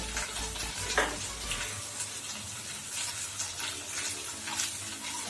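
Cauliflower fries in oil in a pan, giving a steady, close crackling sizzle with occasional clinks and scrapes of stirring, with no voices.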